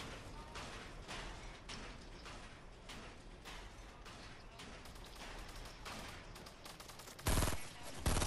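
Rapid gunfire from a Fortnite battle royale match, dense bursts of shots rattling almost continuously, ending in two louder, heavier blasts close by.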